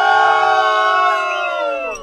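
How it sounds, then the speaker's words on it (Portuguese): Studio audience booing: a loud, sustained collective drawn-out vocal jeer from a crowd, fading slightly toward the end. "Não precisa vaiar também."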